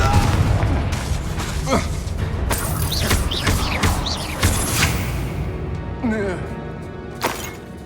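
The Confringo fire spell in Hogwarts Legacy on Xbox Series X goes off as a string of booming blasts and crackling bursts, loud and close, with in-game voices talking between the explosions.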